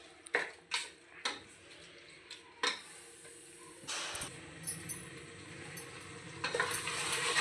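Tomatoes and green chillies sauté in a pan for kuska rice, with steady frying sizzle and several sharp stirring scrapes and clicks of a spoon against the pan, close and moderately loud.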